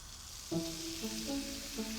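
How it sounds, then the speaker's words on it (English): Three slices of Parma ham fry in a little oil in a pan, giving a soft, quiet sizzle with faint crackles close by. "Start by frying 3 slices of Parma ham in a little oil."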